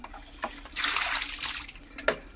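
Water splashing and sloshing close by, a burst of spattering in the middle with a few sharper splashes near the end.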